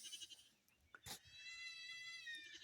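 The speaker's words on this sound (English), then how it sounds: "is one little baby goat that is lost." A lost baby goat on a homestead bleats in the background, a few thin, wavering cries repeating at a distance amid quiet outdoor ambience.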